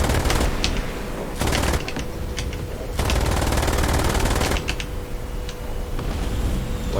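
An MG3, essentially an MG42 chambered in 7.62x51 NATO, mounted on a Leopard 2A4 tank in War Thunder, fires long rapid bursts with a steady rattling roar, broken by brief pauses between strings of fire.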